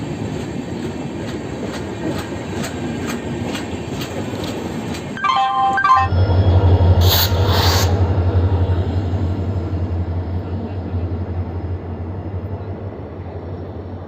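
A train passes close by on a journey to Tirupati, its rumbling wagons and clickety-clack steady and loud, with a brief horn or squeal midway and a low drone continuing afterward.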